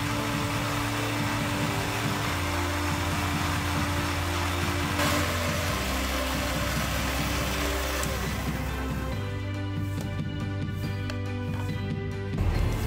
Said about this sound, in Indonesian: Usahakan ya saat memblender jangan lebih dari 2 menit.